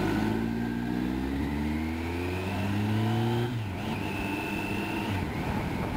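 A motorcycle on a road exam ride accelerates hard out of a slow corner, its engine note climbing steadily through the rev range before a gear change, loud and continuous with strong wind noise over the microphone.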